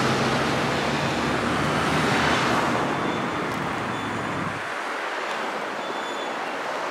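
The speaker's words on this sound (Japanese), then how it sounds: "海の方までやってきました。" Broadband roar of waves on the seaside at Choshi, Japan, mixed with passing road traffic, steady and fairly loud throughout, with the low rumble of vehicles fading out near the end while the surf wash continues alone.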